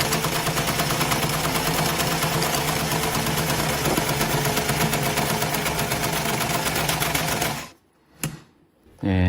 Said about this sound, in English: Now the machine will sew without any problem, and it won't drop the thread.